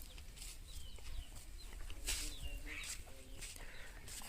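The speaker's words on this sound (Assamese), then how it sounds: "তাত কৰকনাথ আছে মুৰ্গী" Kadaknath chickens cluck and chirp softly in a hen house on a small Assam farm, a few short calls scattered over faint background noise.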